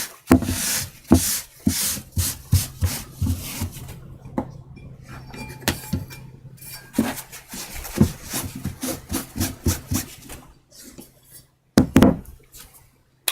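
A blade bevel worked on a 1,000 grit sharpening stone, heard as rhythmic back-and-forth rubbing strokes with knocks and occasional clinks, close and fairly loud, pausing briefly midway, with no talk.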